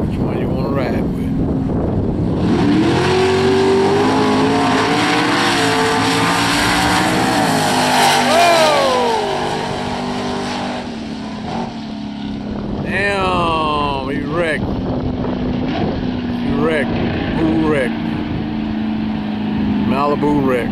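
Small block drag race cars launch and run at the US 41 Motorplex: loud roaring engines rise in pitch through gear changes and fade downtrack, with crowd noise and people talking underneath.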